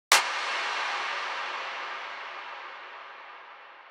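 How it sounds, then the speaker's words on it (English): A single sharp clap followed by a long, washy reverb tail that slowly fades over several seconds, alone with no other sounds. "starting with this one here, the clap sound effect"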